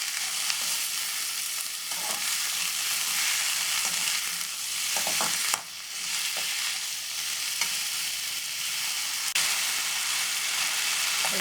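Ivy gourd fries in oil with mustard seeds and curry leaves, a dense continuous sizzle close up, punctuated by occasional pops and the clink and scrape of stirring.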